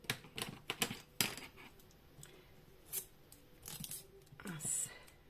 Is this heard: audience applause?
no